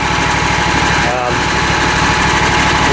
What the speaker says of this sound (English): very smooth machine, chugging away, probably idle for hours like this